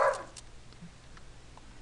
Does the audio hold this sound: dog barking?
yes